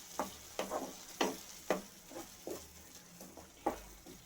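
Onions and tomato sautéing for a chicken gravy, with quiet, regular spoon strokes stirring through the pan over a faint, close sizzle.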